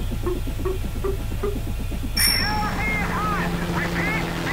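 Helicopter rotor sound effect from the video game Atom Zombie Smasher, a steady whirring chop under game music and sound effects, with a rhythmic pulse early on and whooshing tones later, moderately loud throughout.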